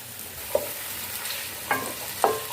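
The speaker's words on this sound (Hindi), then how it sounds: "हमने इसमें कचनार डाल दिए और इसको हम फ्राई कर लेंगे।" Kachnar buds fry in hot cooking oil with a steady close hiss, and three spoon strokes scrape and clink against the pan. No voices are heard.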